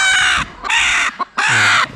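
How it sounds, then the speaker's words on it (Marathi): A hen on a village poultry farm in the Konkan region gives three loud, close, drawn-out calls in quick succession, with short gaps between them. "हे कोंबडी आहे, हे बघा अंडे बघा."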